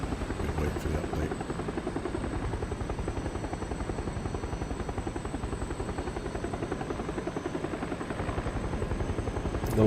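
An aircraft drones steadily through a PUBG match flight, with a constant rotor-like engine throb that holds level for the whole stretch.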